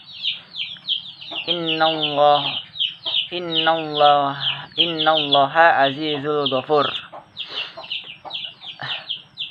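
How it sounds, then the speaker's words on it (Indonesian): Chickens cluck and chirp steadily in the background, a busy, moderately close farmyard chatter that runs alongside a man chanting Quranic verses in a melodic, sustained voice. "Mohon maaf suaranya ayam."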